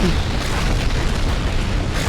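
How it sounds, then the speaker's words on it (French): A nuclear explosion in the Minecraft Rival Rebels mod, a massive continuous roaring blast with deep rumble and a wide hiss of debris, loud and sustained throughout, with no voices. "Explosion nucléaire."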